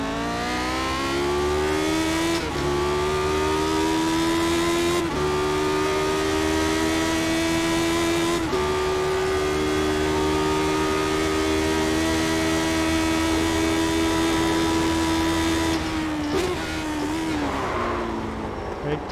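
A Lotus 78 F1 race car screams around Bathurst's Mount Panorama in a racing video game, its engine holding a loud, steady high-pitched drone with a sharp pitch drop at each upshift, close and continuous.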